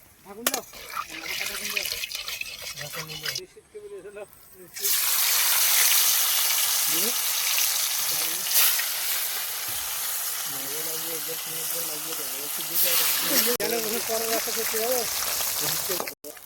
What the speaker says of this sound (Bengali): মাছটা ভেজে নেবো তার জন্য সর্ষের তেলটা দিয়ে দেবো